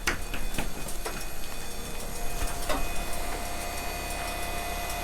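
A sugarhouse vacuum pump runs at about 1,000 RPM, a loud, steady mechanical drone with regular ticking and clattering pulses throughout, close by and with no talk.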